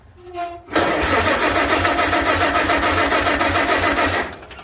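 A Farmall tractor engine cranks briefly and catches, then runs at a loud, steady rhythmic idle close by for several seconds before cutting out.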